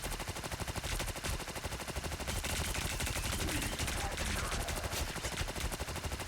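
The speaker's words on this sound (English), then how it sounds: "Just gonna start driving down on H.E.I.D.RA with that automatic cannon of his." Rapid automatic cannon fire from a hero in a Marvel Rivals esports match, a dense, steady stream of shots rattling continuously for over six seconds, moderately loud and unbroken.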